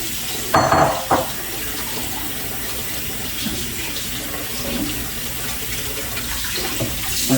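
Parsley being rinsed under a running kitchen tap into a sink, a steady close splashing water rush with a louder burst near the start.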